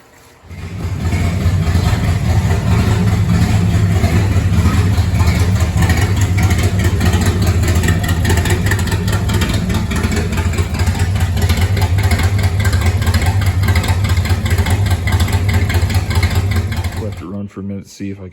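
A forgotten Mopar's Chrysler 440 Big Block V8, revived after 27 years, starts and runs with a loud, deep, steady rumble close by for most of the moment before cutting off abruptly.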